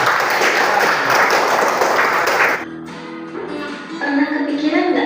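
Clapping from a group at a health-themed talk, dense and loud for about two and a half seconds, then breaking off into quieter room sound with some voices.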